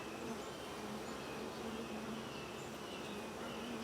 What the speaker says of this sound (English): You see all these bees? It's a lot of bees.